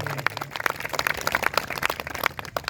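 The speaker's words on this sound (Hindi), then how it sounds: "तो इसके लिए एक बार जोरदार ताली बजाइए।" An audience at a bhoomi pujan ceremony in Parshurampur, Basti, claps loudly and steadily, a dense crowd of hand claps that fills the whole moment without a break.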